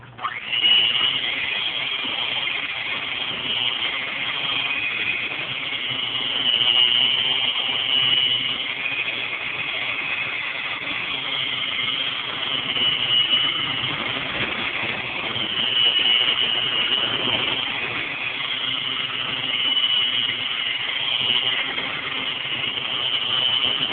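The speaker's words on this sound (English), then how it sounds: "So I'm just gonna mix it maybe about just a minute more." Electric mixer whipping a fluffy shea butter cream, a steady continuous whirring drone with slight swells in loudness, running alone for the whole stretch.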